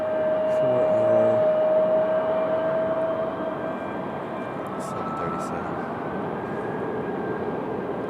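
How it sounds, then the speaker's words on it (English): A loud Embraer E175 jet airliner at Raleigh Durham International Airport, its broadband engine rumble steady and fairly close, with a brief whine early on before the roar settles and fades slightly. "Got a very loud little E175 down here"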